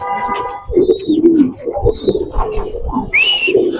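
Pigeons at a farm, including red and white King pigeons, give low, warbling coos over a cluttered mix of other birds. There are a few whistle-like calls, and the overall sound is fairly loud and close.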